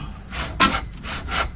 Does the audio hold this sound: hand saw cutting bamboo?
yes